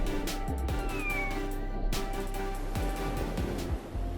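A cat meows a few times against a steady background hum, fairly faint and close.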